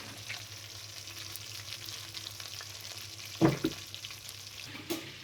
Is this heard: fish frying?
yes